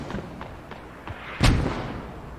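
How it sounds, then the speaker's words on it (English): Mortar shells slam down in a multiplayer military shooter match, several dull distant thumps followed by one loud close impact with a lingering rumble. "both mortars are right on it"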